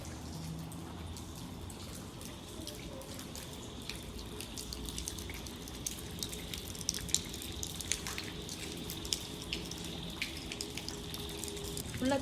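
Water dripping and trickling inside an abandoned building, faint scattered drips over a continuous low background.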